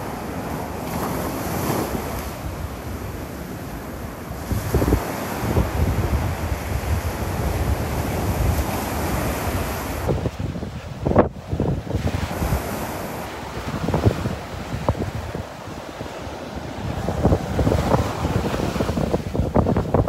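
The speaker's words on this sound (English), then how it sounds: "invigorating wind" Strong wind buffets the microphone on the beach at Delnor-Wiggins on a morning walk, with surf rolling in underneath, a continuous loud roar with gusty surges and no talking.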